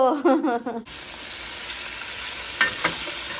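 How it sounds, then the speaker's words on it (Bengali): Paneer frying in a pan for a vegetable biryani, a steady soft sizzle after a brief spoken opening, with a couple of faint clinks near the end. "বিরিয়ানির জন্য পনির ভাজছিলাম"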